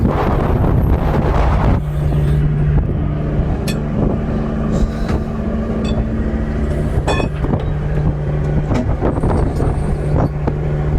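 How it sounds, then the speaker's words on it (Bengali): Strong wind at sea whips past a deep-sea fishing boat during rising weather from a low-pressure system, a loud steady roar buffeting the microphone over a low engine hum, with faint clanks and knocks aboard. "আস্তে আস্তে বাতাসের গতিবেগ বেড়ে যাচ্ছে"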